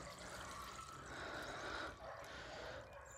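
Sand and water slosh out of a tipped bin in one continuous pour, faint and close, briefly easing partway through before flowing again.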